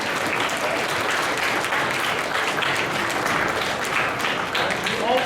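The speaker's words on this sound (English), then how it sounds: "I want you to give a round of applause to Diane McCullough" An audience at a school arts-education event gives a sustained round of applause, a dense, even clapping that fills the whole stretch without pause.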